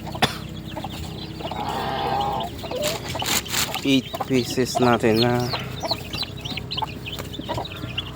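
Month-old turkeys penned with four chickens cluck and chatter close by, with bursts of clucking and calls over a constant hum while someone talks.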